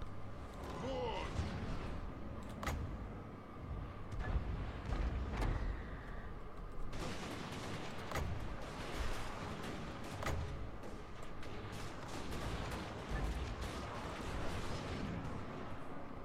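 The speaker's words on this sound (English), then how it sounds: "Artillery, ready." Artillery booms and thuds in a fantasy battle video game with dwarf warriors, repeated heavy blasts and crackles layered with battle noise while people talk over them.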